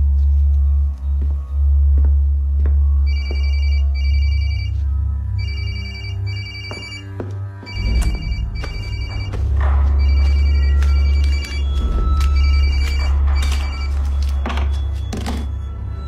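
A telephone rings in repeated double-burst rings that go unanswered, against a low background rumble with occasional thunks and knocks in an indoor scene from a Hindi-dubbed Chinese action movie.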